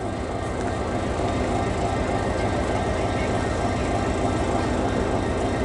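The CP Holiday Train, led by CP 2246, pulls out of Wauwatosa, Wisconsin, a steady, loud rumble of rolling rail cars that continues without a break from start to finish.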